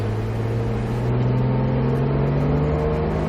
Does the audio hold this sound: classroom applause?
no